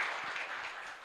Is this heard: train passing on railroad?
no